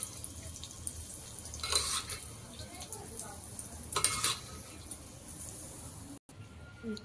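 A tadka of mustard seeds, asafoetida and white sesame seeds is poured over steamed dhokla with the gas switched off, giving two short bursts of crackling sizzle over a soft, steady kitchen hiss.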